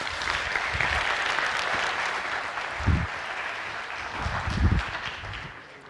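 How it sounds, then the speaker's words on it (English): Conference audience at an agile conference applauding a speaker coming onto the stage, dense sustained clapping from a hall full of people that tapers off toward the end, with a few louder thumps mixed in. "please give him a warm applause as he comes on the stage."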